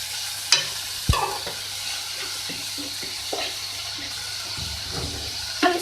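Cutlet mixture of chicken, vegetables and cheese stirred in a pan, with a few sharp spoon scrapes and knocks over a soft, steady sizzle, close and fairly quiet.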